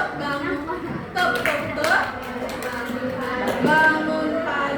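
A school class claps out a patterned rhythm together, sharp group hand claps in short bursts mixed with children's chanting voices in a room.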